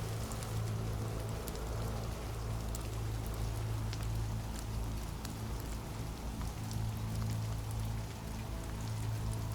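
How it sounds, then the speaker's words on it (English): Gentle rain falls steadily on leaves in a soft, even hiss with scattered faint droplet ticks, continuous and unchanging throughout, quiet, with no voices and a low hum beneath. "Imagine gentle raindrops falling softly on leaves"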